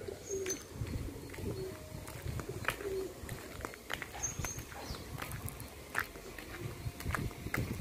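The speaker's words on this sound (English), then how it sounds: "Here I saw a good luck bird." A dove-like bird with brown wings coos outdoors in the morning, soft repeated calls spaced through the stretch, with other small chirps and light background noise.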